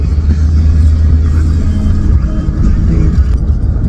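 A truck towing a trailer rolls slowly through an antique festival lot with early shoppers nearby, giving a steady, loud low engine rumble that holds evenly throughout.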